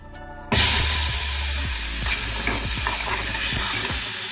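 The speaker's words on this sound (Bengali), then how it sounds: "এর মধ্যে আমি দিয়ে দিচ্ছি অল্প একটু জিরে ফোড়ন।" Cumin seeds dropped into hot oil for tempering burst into a loud, steady sizzle that starts suddenly and keeps crackling, with occasional stirring clinks over the frying hiss.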